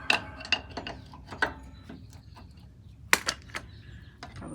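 Sharp, irregular metallic clicks and ratcheting snaps, close and fairly quiet with pauses between them, come from a tool loosening a washer fastener on a Volkswagen split window bus.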